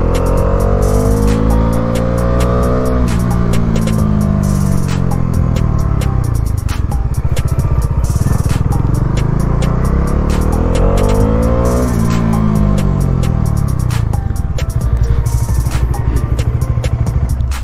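A Bajaj motorcycle pulls away on the road, its engine loud and steady with rising and falling revs through gear changes, wind rushing over the mic, no voices.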